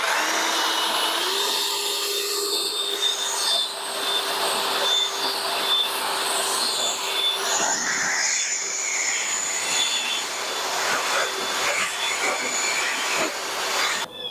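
An EGO POWER+ 765 CFM battery leaf blower (LB7654) runs continuously outdoors in a yard, a loud steady rushing whoosh of air with a faint electric motor whine and small shifts in intensity, with no talking.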